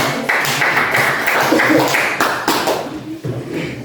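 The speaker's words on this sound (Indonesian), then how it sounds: "Kita berikan aplaus dulu" Classroom applause for a student group's discussion, a dense burst of many hands clapping that stays steady for a few seconds, then thins and fades near the end.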